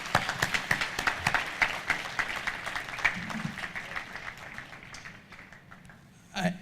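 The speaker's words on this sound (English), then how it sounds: "each one of the name over there deserves a loud" Audience applause at a presidential address, a dense patter of clapping from a seated crowd that gradually thins and fades, then a brief renewed burst at the end.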